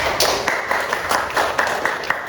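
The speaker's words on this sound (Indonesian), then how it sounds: "Oke, beri tepuk tangan untuk Jepang." An audience at a teacher training workshop in Surakarta claps for a presenting group, a moderate, fairly even round of hand claps from a small room crowd, with no talk.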